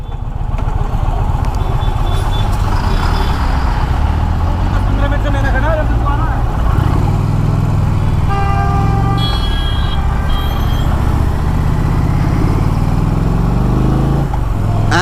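A 2024 Indian Challenger Dark Horse motorcycle cruises at 100 km/h in sixth gear on the highway, its engine drone steady and loud against strong wind rush, with a rider talking over it.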